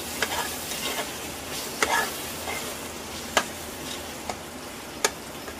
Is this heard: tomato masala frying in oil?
yes